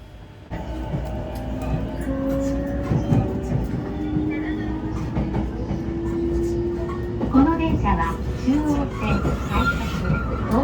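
A train from Shinjuku bound for Tokyo pulls away with a rising electric motor whine climbing in pitch over low rumble and light rail clatter, with voices talking in the carriage.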